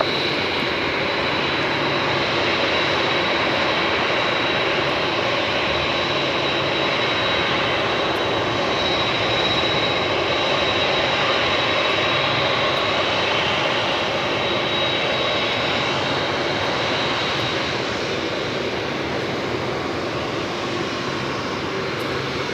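Airliner jet engines taxiing at LAX airport, a loud, steady, broadband roar with a thin high whine that holds unbroken and close throughout.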